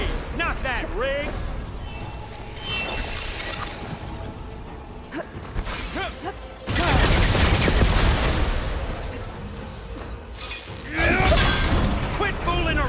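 Enemy gunfire and crashing impacts from a Horizon Forbidden West fight: bursts of shots and shattering hits, loudest around the middle and near the end, with combat voices mixed in.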